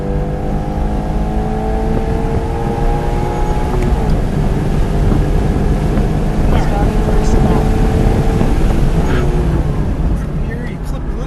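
A car accelerating through a corner during an SCCA time trial at ECR, a steady loud engine drone with wind noise from inside the cabin, continuous throughout.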